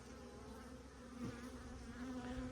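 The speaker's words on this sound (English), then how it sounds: "Fairly good amount of bees, different type of bees that I've ever had before" Carniolan honeybees buzz steadily in a hive colony bedded down for winter, a close, continuous drone with no voices.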